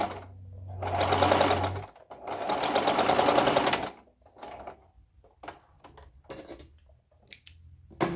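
Home sewing machine stitching dress fabric, two long steady motor runs of about two seconds each with a short stop between, followed by quieter clicks and handling noises.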